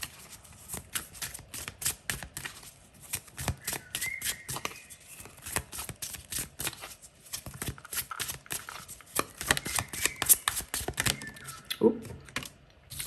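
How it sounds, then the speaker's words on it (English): Tarot cards are shuffled in quick riffling bursts, crisp rapid clicks with short pauses between rounds, close and fairly quiet. "Let's give it a good shuffle"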